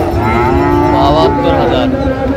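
A Friesian bull calf at a cattle market in Kushtia lets out one loud, close, drawn-out moo that fills the whole moment.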